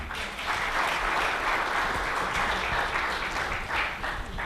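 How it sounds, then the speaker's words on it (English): An audience at a security conference panel in Qatar breaks into sustained applause, dense and even clapping filling the room for several seconds, fairly loud with no voices on top. "A round of applause, please."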